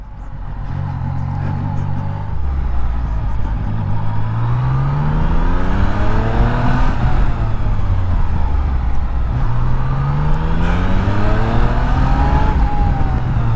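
A motorcycle engine on warm-up laps along straights rises and falls in pitch as it accelerates and shifts through gears, loud and close with constant wind noise, no talking.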